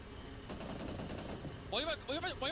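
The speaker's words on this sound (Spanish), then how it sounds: "Están escuchando los disparos." Gunfire rings out in a PUBG Mobile match, a rapid burst of automatic shots followed by a few sharp, ringing, sweeping effects, all set against a noisy background with an excited commentator's voice.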